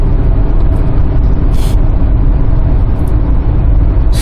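A 2006 Hyundai Tucson accelerating hard, its engine a loud, steady low roar with dense rumble and road noise throughout, no speech.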